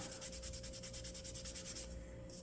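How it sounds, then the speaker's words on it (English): Steady rhythmic rubbing strokes of sandpaper on a wooden model Norwegian sailing pram, close and even-paced, continuing without pause over a low hum. "we'll give everything a good sanding"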